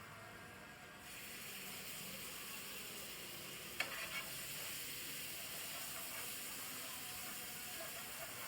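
Pav bhaji sizzles faintly in butter in a pan, a soft continuous frying hiss with one brief click partway through.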